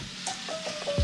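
A brief burst of sizzling and frying as noodles cook in a pan, with soft stirring and a faint tonal hum in the background.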